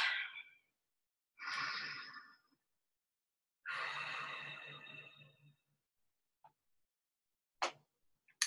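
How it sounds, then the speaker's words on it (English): Deep cleansing breaths during a guided relaxation: a few long, airy inhales and sighing exhales divided by silence, followed by faint short clicks and one brief sharp breath. "take a deep cleansing breath"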